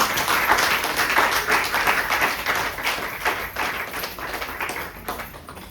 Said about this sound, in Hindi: देखो फिर से अपने लिए ताली बजाइए।